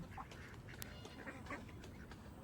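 Ducks quack in a faint, repeated series of calls, set against a dense, low background rumble.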